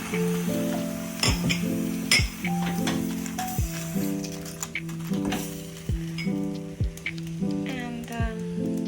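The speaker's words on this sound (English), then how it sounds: "Now I'm gonna put in the milk or the ghee in this case." Ghee sizzles as it is added to caramelized sugar in a pan for basbousa, with a steady hiss broken by sharp clacks and scrapes of stirring, while a tonal hum runs underneath.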